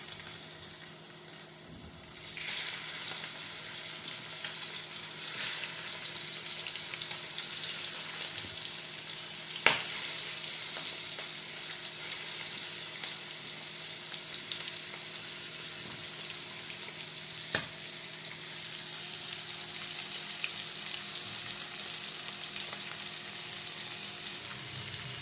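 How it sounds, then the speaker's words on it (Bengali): Prawns, both freshwater giant and tiger prawns, sizzle in oil in a frying pan, a steady close hiss throughout with a couple of sharp clicks from the pan. "এখন আমি এক এক করে মাছগুলো একটু ভেজে নিব।"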